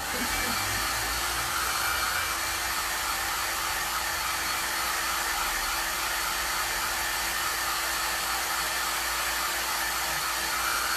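A hair dryer blows continuously at close range, drying paint on a patina-washed wooden remote-control holder, a steady loud hiss and whir that never changes for the whole stretch.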